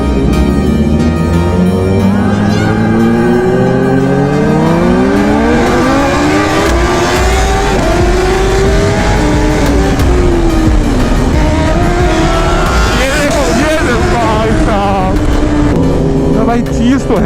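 Motorcycle engine revved hard near the recorder, a loud, rising and falling roar with rapid throttle blips that never lets up, while someone talks over it.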